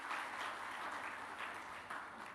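Audience applause at a Bunda PAUD appreciation ceremony in Indonesia, heard as a faint, distant, steady wash of many hands clapping over the short stretch.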